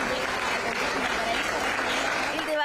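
Applause greeting a former minister arriving at the National Congress, a dense steady clapping from a crowd heard throughout.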